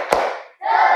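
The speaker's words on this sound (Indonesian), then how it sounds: "marilah kita tepuk semangat dulu terlebih dahulu." Classroom group clapping chant, the "tepuk semangat" spirit clap led by a teacher: a sharp burst of claps and voices, a brief pause, then a loud sustained group shout.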